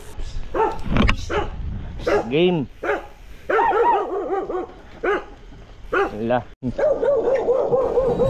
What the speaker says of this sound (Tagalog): Basa ang daan at naalarma na ang mga aso.